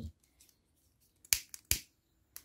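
Scissors cut crochet thread in two crisp, quick snips about half a second apart, close and clear, with faint handling rustles before and after.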